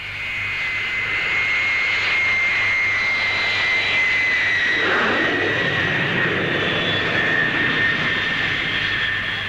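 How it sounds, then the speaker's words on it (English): A Handley Page Victor bomber with four Armstrong Siddeley Sapphire jet engines roars past at a steady high level, a sustained engine whine with a broad rushing rumble that swells and slowly shifts in pitch. "The Victor B-1 is powered by 4 Armstrong Siddeley Sapphire jets and has immense striking power."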